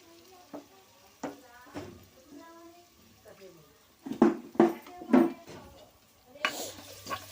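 Ginger garlic paste stirred with a ladle in a pan for veg biryani, a few scraping clanks and a soft sizzle running under someone speaking throughout.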